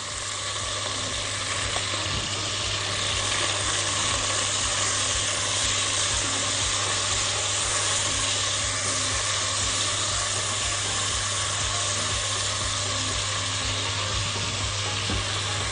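Chicken pieces stir-frying in a pot, a steady close sizzle with constant hiss and occasional scraping stirs throughout, no voices.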